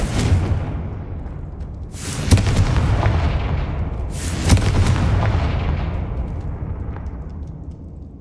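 Confringo spell blasts in the Hogwarts Legacy video game: two loud booming explosions about two seconds apart, each with a sharp crack that rolls into a long fading rumble over a constant low background.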